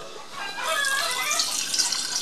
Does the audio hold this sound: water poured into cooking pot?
yes